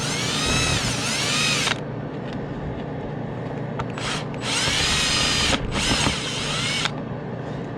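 A power drill backing screws out of an RV roof vent, whining in several bursts of a few seconds each with short pauses between, close up and without talk.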